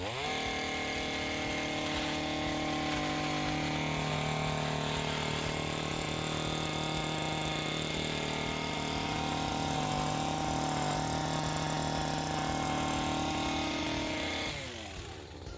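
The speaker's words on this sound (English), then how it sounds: "when you're trimming, you want to be able to roll that head, the trimmer head, and go over the contour of that bush like this" Powered hedge trimmer shaping a round bush, with a loud continuous buzzing engine drone that holds steady throughout before easing off right at the end.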